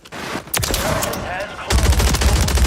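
Rapid gunfire in the video game Warzone, dense bursts of automatic shots that swell louder toward the end, with voices in the game chatter mixed in.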